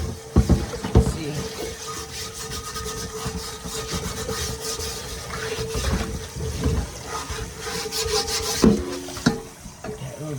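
A rusty pan being scrubbed clean, with rough, irregular rubbing and scraping strokes close by, punctuated by a few louder knocks and splashy bursts.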